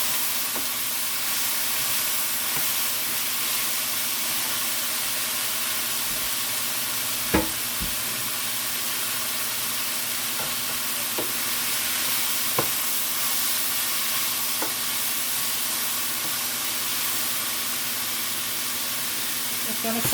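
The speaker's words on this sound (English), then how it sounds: "So I'm just gonna turn the heat down a bit and let it saute." Garlic, ginger and onions saute over lowered heat in a pan, giving an even, steady hiss and sizzle for the whole stretch, broken only by a few faint ticks and one brief knock.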